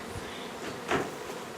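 Honey bees buzz faintly at a syrup feeder, a soft, close insect drone with one brief louder pass of wings near the middle, with no voices.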